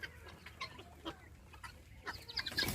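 Guinea fowl hens clucking close by near their coop on a free-range farm, with scattered short calls and a busier burst of chatter toward the end.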